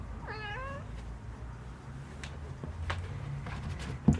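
A kitten gives one short, thin meow early on, then only a quiet room background follows with faint rustling and a small bump at the end.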